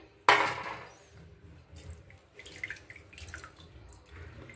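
A sudden splash of water pours out as chicken is drained in a colander, then trickles and drips quietly with small clattering sounds.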